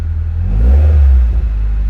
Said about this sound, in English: Muffler actually does sound really good.